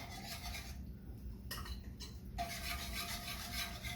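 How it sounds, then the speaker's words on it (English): Whisk scraping and stirring atole in a pot, a soft rasping rub that drops out briefly and then returns steadily, close and faint, with no talk. "You're gonna want to keep whisking to make sure that it does not form those lumps"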